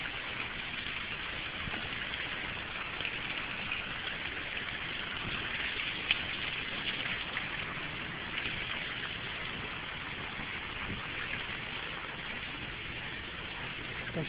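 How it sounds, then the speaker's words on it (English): Heavy rain falls in the Bay Area near a creek, a dense, even hiss that runs steadily throughout with no voices. "Fucking hella raining right now."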